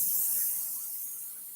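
An airbrush sprays green paint lightened with a little white, giving a steady close hiss that eases slightly toward the end.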